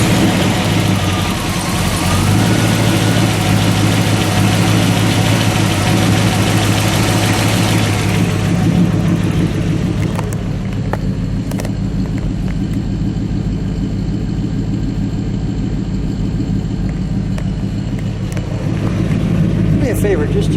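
A custom green 1940 Mercury two-door coupe fires up and settles into a loud, steady, rumbling idle close by, with a faint knock in its rhythm and people talking over it.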